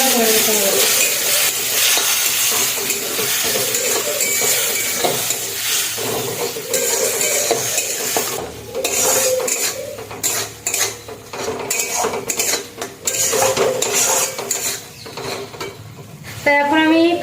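Raw mango jelly pickle being stirred in a pan, with steady scraping and clinking of a utensil against the metal over a soft sizzle, busiest and most broken up in the second half, with no talking.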